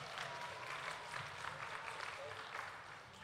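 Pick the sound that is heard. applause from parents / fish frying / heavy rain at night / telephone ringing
applause from parents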